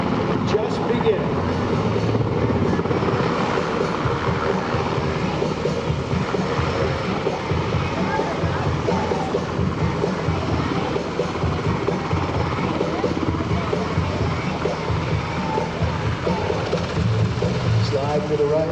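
An MH-60S Knighthawk helicopter's rotors drone and thrum steadily nearby for a long stretch during an air show search and rescue demo, with voices talking over the engine noise.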